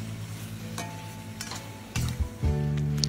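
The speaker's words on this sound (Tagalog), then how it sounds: "Sa sliced pork, haluin lang siya hanggang maging brown." Sliced pork sautéed with onion, garlic and tomato for ginisang ampalaya, a steady sizzle in a pan with a few spatula scrapes and clinks as it is stirred, louder near the end, no talking.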